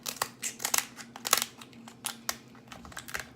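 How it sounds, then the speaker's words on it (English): Black kitchen scissors snipping through lobster tail shells: a string of sharp, crisp crunching cuts in irregular bursts, close and fairly quiet, with no voices over them. "Actually, I'm going to use your scissors."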